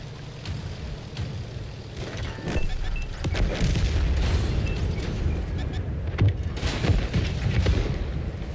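Tank cannons boom in a World of Tanks console battle, with one sharp crash partway through followed by further heavy impacts and rumbling over steady battle noise.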